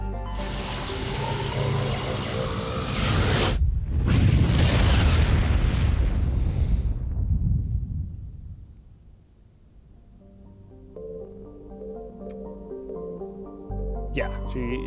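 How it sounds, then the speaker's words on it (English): Explosions in the video game Mass Effect: loud, rumbling booms in two heavy bursts lasting several seconds, followed by a fading roar and quieter game music. "Yeah, more explosions."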